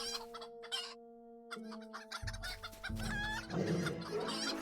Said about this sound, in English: Okay, chickens.